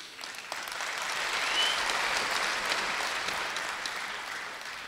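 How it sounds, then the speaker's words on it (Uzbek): Concert audience at a live Uzbek pop show applauds, a broad wash of many hands that swells and holds steady, heard from within the hall with no voices over it. "Qarsaklar joyida bo'lyapti."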